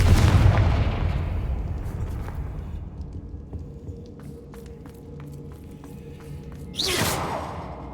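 The Confringo fire-blast spell goes off in Hogwarts Legacy: a loud, deep booming explosion that rumbles and fades over several seconds, followed by small debris clatter and a second sharp whooshing burst near the end.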